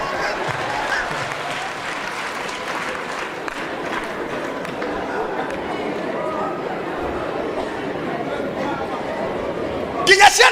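A church congregation claps and cheers in a dense, sustained roar of applause and crowd chatter that holds steady throughout, with a burst of louder noise near the end.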